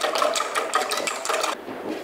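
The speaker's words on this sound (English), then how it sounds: "300 ml of cream, and 1 teaspoon of vanilla. And I'm just whisking that." Cream and a teaspoon of vanilla being whisked for a shepherd's pie, a steady fast rattling whir with rhythmic pulses that runs for about a second and a half, then drops to a quieter hiss.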